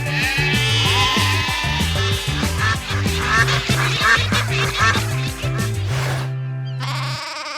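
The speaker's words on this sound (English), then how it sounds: "I think you found the sheep, Cole." Cartoon sheep bleat in a wavering, repeated chorus over a bouncy animated musical backing, loud and continuous, ending with a held note and a brief pause before a final bleat.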